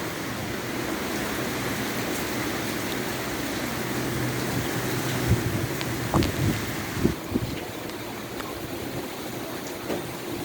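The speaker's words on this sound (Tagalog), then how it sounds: "Lakas po ng hangin." Strong typhoon winds from Typhoon Rolly roar steadily across flooded farmland in Laguna, a dense broadband rush with occasional buffeting gusts and thumps hitting the microphone.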